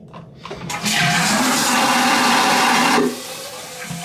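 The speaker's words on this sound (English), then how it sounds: "Don't rush to flush, but" A cruise ship stateroom toilet on Utopia of the Seas gives a loud vacuum flush, a sudden rushing roar that holds steady for about two seconds, then cuts off sharply and leaves a faint hiss.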